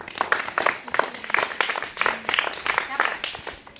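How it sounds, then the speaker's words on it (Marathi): Schoolchildren in a classroom clap together for a classmate, a dense burst of many small hands that comes in uneven waves and keeps going steadily the whole time with no break. "आपण वैष्णवीसाठी छान सगळ्यांनी टाळ्या वाजवायच्या"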